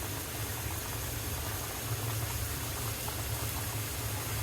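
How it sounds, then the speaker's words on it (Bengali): Pabda fish curry broth boiling in a pot, a steady, continuous bubbling hiss with a low rumble underneath that holds even throughout, with no one talking. "দেখেন কি সুন্দর বলক উঠতেছে।"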